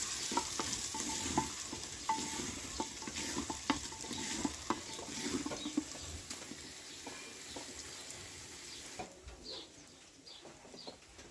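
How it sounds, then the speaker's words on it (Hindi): Garlic paste and chopped onions frying in oil, a steady soft sizzle with stirring clatter throughout, plus faint bird coos in the background. "अब इनमें हम लहसुन का पेस्ट डालेंगे।"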